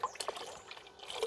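Distilled white vinegar pours into a bucket of water, a soft liquid splash and trickle close by, with a few brief dripping accents.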